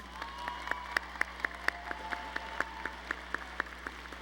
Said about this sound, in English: Let's applaud the law graduates.